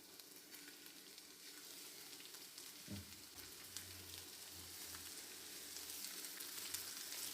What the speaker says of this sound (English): This is how you have to fry soulfish.